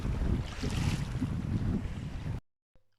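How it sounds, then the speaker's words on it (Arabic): Strong wind gusts of 40 to 50 roar steadily across an open microphone at sea on a fishing boat, a dense rushing buffet that cuts off abruptly into near silence. "هبات الريح وصلت 40 و50"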